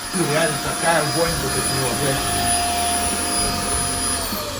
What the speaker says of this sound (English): Turn off the vacuum cleaner